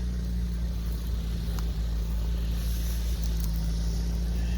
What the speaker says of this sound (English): And here is the 826 gear drive.